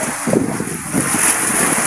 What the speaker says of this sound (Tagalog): nagsimula na ang malakas na hangin at ulan ah